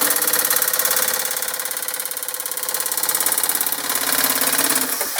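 Metal nibbler chewing through 1.6 mm aluminium sheet, a loud, rapid, steady mechanical chatter that runs continuously and cuts off abruptly at the end.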